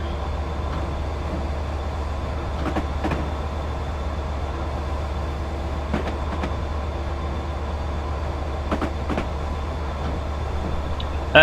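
Class 67 diesel locomotive on the Riviera Line in Train Simulator 2015, with a steady low engine drone and rolling rumble, broken by a few sharp rail clanks and knocks.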